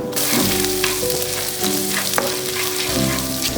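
Ginger drops into a pan of frying cashews and plump raisins for vermicelli upma, and a loud, dense sizzle carries on throughout, broken by a few sharp clinks of a spoon or utensil against the pan.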